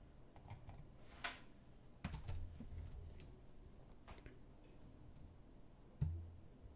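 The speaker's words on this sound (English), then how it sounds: "I will show you how I type in Polish" Quiet, sparse keystrokes tap on a QWERTY computer keyboard while typing in Polish, irregular clicks with a few louder presses spaced across several seconds, close and soft without any talking.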